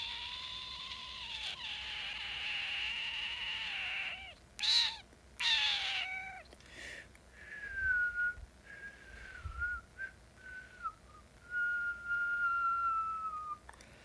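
A person makes long, wavering whistly sounds with the lips that imitate a cat's meowing, several drawn-out glides with short pauses between.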